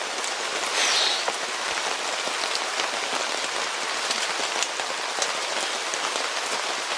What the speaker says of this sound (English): God, the rain is even falling.